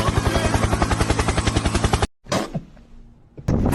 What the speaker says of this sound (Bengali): helicopter helicopter